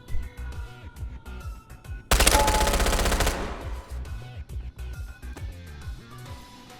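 Automatic gunfire from an MP9 submachine gun and rifles in the video game Ghost of Tabor rattles in rapid bursts, with one loud sustained volley in the middle among quicker, fainter shots.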